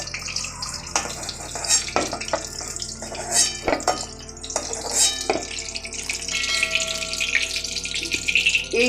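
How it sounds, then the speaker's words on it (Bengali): Fried eggs lifted from hot oil into another pot, with the clink and scrape of a utensil against metal cookware over a faint sizzle, close and uneven, with no talking. "অন্য পাত্রে তুলে নিচ্ছি।"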